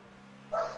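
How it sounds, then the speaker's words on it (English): A single short bark from an excited female pet dog, close and moderately loud after a quiet moment. "She started barking."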